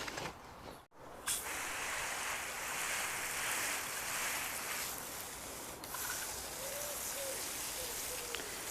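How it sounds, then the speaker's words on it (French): Water from a watering can splashing onto potting soil along the edges of a flower planter, a steady hiss of spray running almost without pause, with faint birdsong outdoors. "je suis en train de mouiller les bords pour enlever le terreau qui est sur la couche et la bordure du pot"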